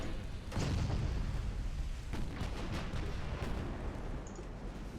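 König-class battleship main guns firing in the naval video game Ultimate Admiral Dreadnoughts, heavy booming salvos rolling over a dense, continuous rumble of battle, fairly loud with no talking.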